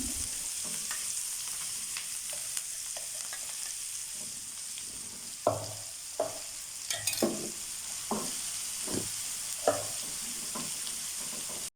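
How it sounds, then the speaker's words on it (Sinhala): Homemade chilli paste fries in about two tablespoons of gently heated oil in a pan, giving a steady soft sizzle with repeated scraping clicks as it is stirred, near and fairly quiet. "තෙල් ටික ලාවට රත් වෙනකොට අපි හදාගත්ත පේස්ට් එක දාගන්න."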